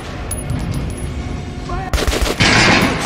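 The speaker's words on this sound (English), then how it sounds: "Try out the rest of the weapons you chose." Gunfire at a training dummy in the Metro video game: a few scattered shots, then a loud, sharp volley of rapid close bursts in the second half over game ambience.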